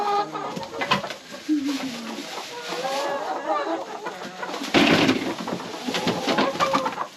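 Chickens cluck and squawk close by in a busy coop, a steady chorus of overlapping calls with a few louder bursts and rustling.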